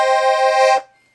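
Green and red Weltmeister Rubin piano accordion on the musette treble register holds one bright, reedy chord, steady and close for under a second, then stops abruptly into near silence.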